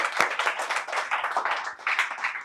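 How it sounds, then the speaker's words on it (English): A room full of people applauds a speaker at a public speaking competition, dense, lively clapping close by that carries on steadily for a couple of seconds. "So I want everybody please give a round of applause for Tabassum."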